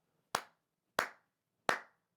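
Three sharp hand claps recorded as music percussion through a close studio microphone, evenly spaced about two thirds of a second apart, each with a short decaying tail in an otherwise quiet room.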